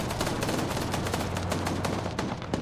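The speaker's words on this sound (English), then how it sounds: "They're definitely firing up here" In a video game, close gunfire rattles off as rapid repeated bursts of automatic shots over a steady low hum.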